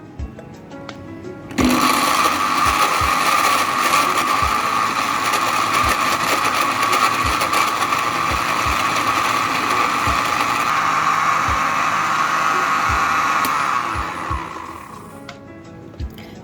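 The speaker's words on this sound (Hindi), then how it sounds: "सबसे पहले मैं ऐड कर रही हूँ जग में आम के जो क्यूब में मैंने काटे हैं और हम इसे करेंगे ब्लेंड।" An electric blender purees cut mango cubes in a jug, starting abruptly with a steady, loud motor whir that holds for about twelve seconds before winding down and stopping.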